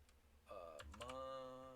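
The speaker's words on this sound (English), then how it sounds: "you're about to hear my loud ass keyboard" A loud computer keyboard clatters with quick keystroke ticks, close and fairly quiet overall, with a tonal hum or voice-like sound layered over the second half.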